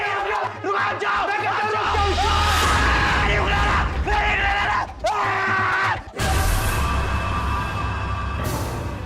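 A man yells and bellows loudly and repeatedly in a tense domestic crime drama, sustained anguished shouts with brief breaks, close and dominant throughout.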